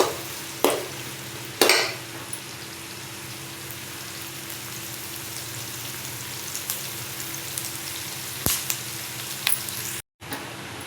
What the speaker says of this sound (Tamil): 2 வெங்காயம் கட் பண்ணி போட்டுக்கோங்கம்மா. நல்லா வதக்குங்கம்மா.